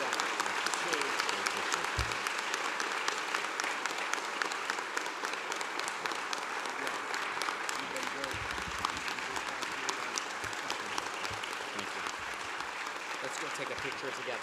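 Sustained audience applause fills a hall at a city address as Matt Riley is welcomed to accept the Mayor's Medal of Honor, dense, even clapping lasting throughout with faint voices underneath.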